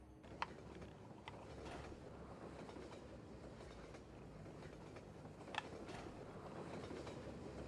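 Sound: train in Half-Life 2 video game

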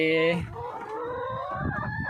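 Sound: laying hens clucking on a farm

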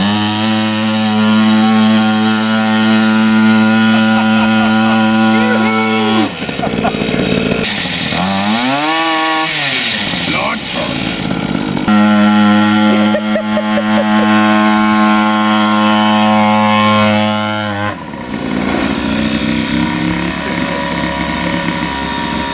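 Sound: 3.5 HP two-stroke engine of a little motorbike running

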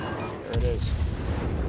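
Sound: naval gunfire volley in World of Warships video game

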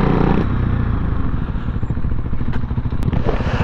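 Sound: Honda C90 motorcycle riding past

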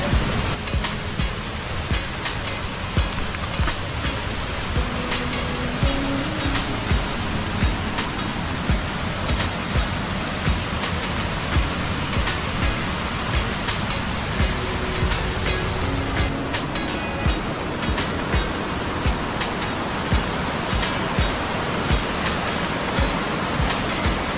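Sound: flowing stream near Barad Fort

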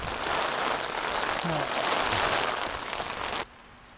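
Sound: rain falling

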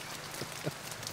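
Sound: rain

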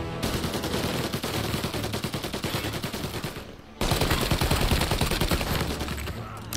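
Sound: gunfire in the video game Mafia Definitive Edition

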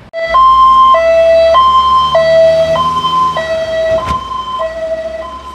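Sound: ambulance siren as it speeds past

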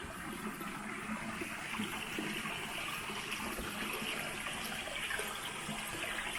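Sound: flowing stream water

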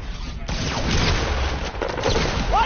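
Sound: gunfire in a video game

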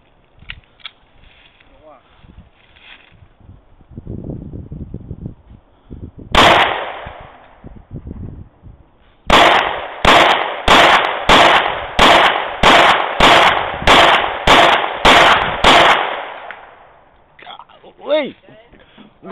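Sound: gunshots fired at a target

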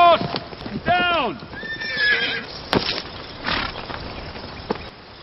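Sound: horse neighing and hooves clip-clopping

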